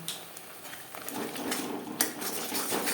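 Ground coriander and cumin being stirred into a spice paste in a pan for a bean-seed dal with snakehead fish, with soft scraping and clinks of a metal spoon against the pan, close and fairly quiet.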